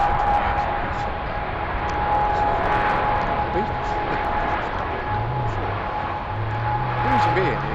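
An airplane takes off at Heathrow airport, a broad continuous engine roar rising and falling at a distance across the whole stretch, with a steady low hum and occasional faint background sounds beneath it.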